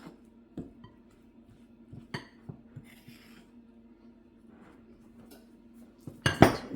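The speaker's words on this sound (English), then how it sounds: "Just mix it until it's all combined." A utensil mixes batter in a bowl, giving soft scraping strokes and occasional clinks against the bowl's side, with a louder clatter near the end, close and quiet with no talking.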